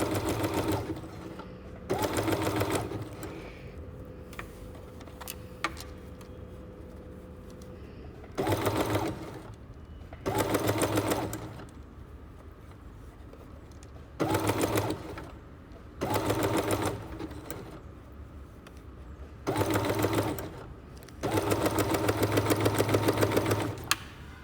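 Sewing machine running zigzag stitches with a rolled hem foot, in repeated bursts of a few seconds each, separated by quiet pauses, close and steady.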